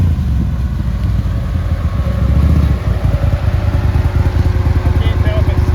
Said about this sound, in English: Engine braking maximum in high gear.